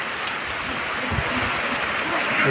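Rain pours down steadily in a village, a dense, even hiss of falling drops that stays constant throughout, with no voices.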